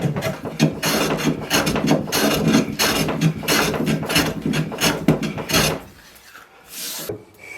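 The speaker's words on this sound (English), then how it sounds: "there's nothing like a good session of hand planing" A hand plane shaves wood for a knife block, with loud rhythmic rasping strokes repeating steadily and close, then stopping near the end as a quieter scrape follows.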